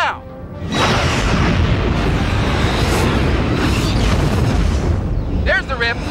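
Big explosion as a generator is destroyed during a Star Trek Klingon encounter attraction: a loud booming blast that swells and rumbles for several seconds, dense and close, with a short electronic warble near the end.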